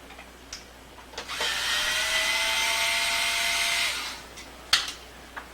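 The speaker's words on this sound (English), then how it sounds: "So remove the 2-pin jumper, and then remove these 2 screws right here." A small electric screwdriver whirs for about three seconds while taking tiny screws out of a 1992 Super Nintendo console, a close, steady high-pitched spin framed by light clicks and handling taps.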